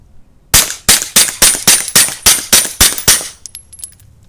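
A SIG P365 pistol fitted with an AB F4 Phantom suppressor fires ten rounds at an outdoor range. The shots are sharp, loud, suppressed cracks in an even rapid rhythm, followed by faint metallic tinkling.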